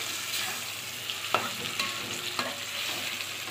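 A spoon stirs homemade tomato sauce simmering in a pot on the stove, making soft scraping strokes and a few sharper knocks over a steady bubbling hiss, close by with no voices.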